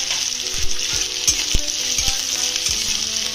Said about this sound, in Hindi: अदरक और शिमला मिर्च को अच्छी तरह से भून लेंगे